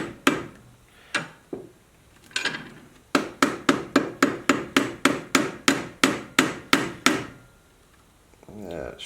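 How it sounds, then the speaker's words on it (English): A hammer taps a wooden dowel into the tip of a shaft, a few spaced knocks followed by a quick, even run of about fifteen light, crisp taps close by, then stopping. "I'm just going to take a hammer now, just going to gently tap that in."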